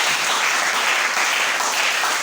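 A church congregation claps together in a dense, steady burst of applause that stays loud and even throughout, with no voices standing out.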